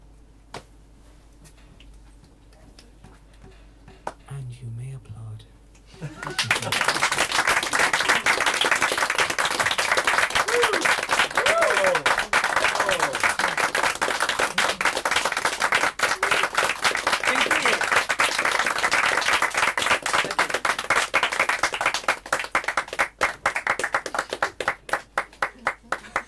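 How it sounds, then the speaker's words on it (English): An audience breaks into loud, sustained applause and clapping after a few quiet seconds. The dense clapping continues steadily to the end. "You may applaud."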